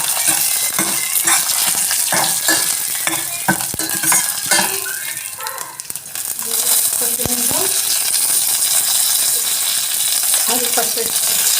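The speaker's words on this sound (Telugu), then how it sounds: "తాలింపుకండి 2 స్పూన్స్ ఆయిల్ వేసుకొని 4 to 5 తెల్లవాయి వేసుకొని ఒక 2 ఎండుమిర్చి వేసుకుంటున్నాను." Mustard seeds, cumin, garlic and dried chillies fry in hot oil for a tempering, making a loud, close sizzle with popping crackles and some clatter of a utensil against the pan.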